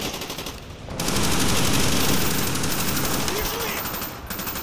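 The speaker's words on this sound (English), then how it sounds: "They gotta stop running in front of bullet fire." Gunfire in the Call of Duty: Black Ops campaign: loud, sustained automatic bursts and rattling shots fill the clip, with a brief lull near the start and end and some voice-like sound mixed into the din.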